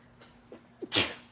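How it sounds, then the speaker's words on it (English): A few faint breathy sounds build into one loud, close sneeze, and the room goes quiet right after. "didn't mean to sneeze like that"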